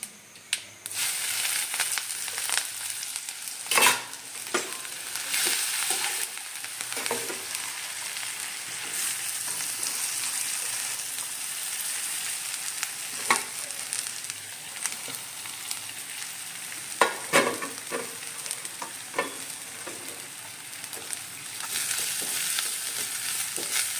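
Shredded cabbage and carrot sambharo tempers in hot oil in a village home kitchen, with a continuous close sizzle and crackle broken by occasional sharper stirring knocks and scrapes, and no voices.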